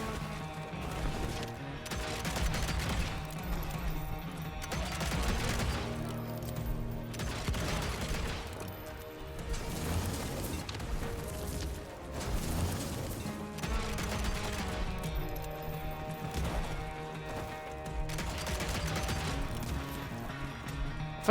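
Gunfire from a gun in the video game Evil West, repeated bursts of shots over about twenty seconds set against a dense, loud game soundtrack and effects, with no talk.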